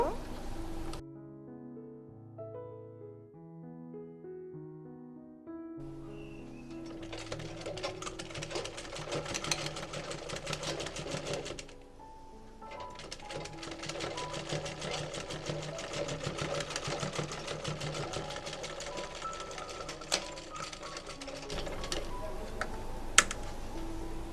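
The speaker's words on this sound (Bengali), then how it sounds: "তারপর আরও একটা ভাঁজ দিয়ে এই সাইডে একটা সেলাই করব" A sewing machine stitches a cloth face mask in rapid mechanical bursts, running steadily for several seconds at a time with brief pauses between runs, after an opening stretch of quiet background music.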